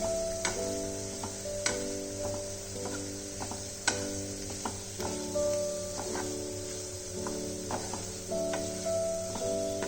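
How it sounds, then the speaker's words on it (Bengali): Potato and boiled cauliflower fry in a pan in a steady soft sizzle, with occasional small clicks and taps close by, over a low hum and with no talking. "আলুটা যতক্ষণ ফ্রাই হচ্ছে আমি এর মধ্যে সেদ্ধ করা ফুলকপিটাও অ্যাড করে নেব।"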